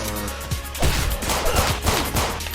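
Rapid gunfire in The TakeOver video game aimed at tough shirtless Mohican enemies, a quick run of punchy shots and impacts over loud, busy game music and noise.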